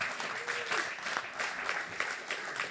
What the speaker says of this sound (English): Please applause Eric.